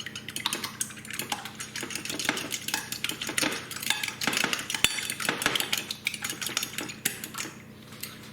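An egg is beaten in a bowl with a fork or whisk, giving a quick, steady run of light metallic clinks and scrapes close by, with no talk.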